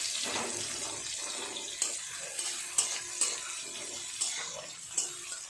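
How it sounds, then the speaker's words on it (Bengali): Chopped onion and garlic frying in hot oil in a pan, a steady sizzle with repeated scraping stir strokes and a few sharp clinks of the spatula, fairly close. "রসুন কুচিটাও দিয়ে দেবো।"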